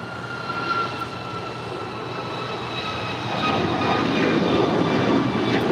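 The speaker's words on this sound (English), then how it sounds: "This departure is United Airlines Flight 2410, departing to Houston Intercontinental." A United Airlines jet departing LAX for Houston roars steadily with broadband engine noise and a thin whine, swelling louder toward the end, heard alone without talk.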